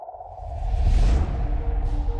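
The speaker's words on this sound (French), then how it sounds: "même les comètes peuvent produire des sons effrayants dans l'espace." Comet 67P's magnetic field oscillations, picked up by the Rosetta probe and turned into sound: an eerie, airy rushing whoosh with a low rumble and a faint steady hum, swelling and fading over a couple of seconds.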